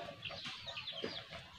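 Soft fighting-rooster clucks and murmurs repeat in quick succession, fairly quiet and close, with faint background noise.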